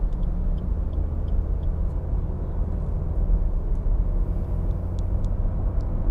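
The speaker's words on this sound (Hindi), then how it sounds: "ये देखिए इतना स्पोर्टी सा रेव आ रहा है, सेकंड गियर में ही मैं हूँ और अराउंड 2000 RPM पे" Maruti Suzuki Baleno Zeta 2021 engine revving in second gear at around 2000 RPM, heard from inside the cabin as a steady, loud low rumble with road noise and no speech.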